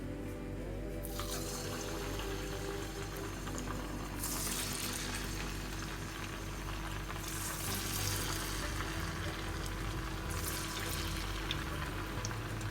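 Small sago vadai dough balls frying in hot oil at medium heat: a steady, dense sizzle and bubbling hiss that holds on without a break, with brief brighter surges of crackle.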